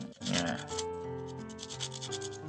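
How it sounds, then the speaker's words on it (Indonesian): Coarse sandpaper rubbed back and forth over copper switch contacts, a steady gritty scraping in quick repeated strokes, close and fairly loud, with no talking. "di tengahnya juga kita bersihkan pakai amplas kasar"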